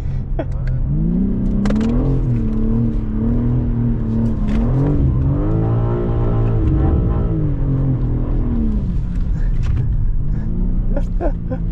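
A GT3 race car driving on the Nürburgring, heard from inside as a loud, continuous engine drone that rises and falls with throttle and gear changes, steady throughout.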